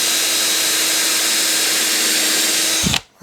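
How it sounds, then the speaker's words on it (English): A power drill boring a hole in a backdrop support for a model railroad, a loud, steady high-pitched motor whine for nearly three seconds before winding down abruptly to stop. "Now I want to drill this other hole."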